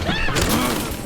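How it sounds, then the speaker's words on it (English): A short burst of video-game gunfire and a boom in Resident Evil Requiem, loud and close, with a game voice speaking over the shots. "Stop shooting!"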